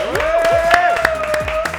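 Lively applause with sharp individual claps, while a sustained tonal sound, like a whistle or music, rings over it.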